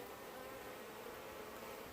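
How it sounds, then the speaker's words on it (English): Dense, steady drone of a honey bee swarm buzzing inside a hive box during a spring swarm capture, close and continuous with no talk. "there's so many bees in it"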